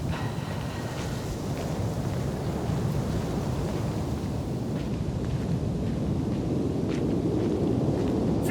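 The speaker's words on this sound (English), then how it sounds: "We gotta beat the storm." Storm wind roars steadily on an alien planet in the video game The Invincible, a dense, continuous low rumble with faint thunder-like swells and gusts, loud and close with no speech.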